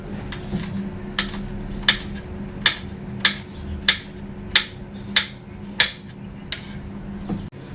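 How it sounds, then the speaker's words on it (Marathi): A knife chops raw mangoes into small pieces. About ten crisp, evenly spaced cuts land roughly every two-thirds of a second over a quiet background. "अशा प्रकारे सर्व आंब्यांचे मी तुकडे करून घेणार आहे बारीक।"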